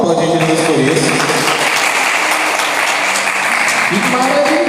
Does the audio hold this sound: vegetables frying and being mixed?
no